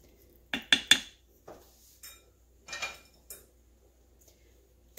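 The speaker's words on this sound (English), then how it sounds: "So I'm going to stir this good" A utensil stirring Italian escarole, bean and sausage soup in an Instant Pot, clinking against the metal pot in a quick cluster of three knocks, then scattered lighter taps and scrapes at close range, with no talking.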